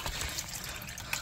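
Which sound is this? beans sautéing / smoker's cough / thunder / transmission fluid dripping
transmission fluid dripping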